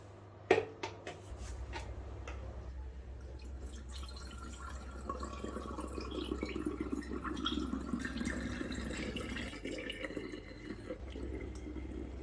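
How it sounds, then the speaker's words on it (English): Cooled rose water poured into sterilised glass bottles, a soft, steady trickle of liquid that starts after a couple of sharp clinks and runs continuously, close and fairly quiet. "because this rose water has gone cold, we're putting it into cold bottles"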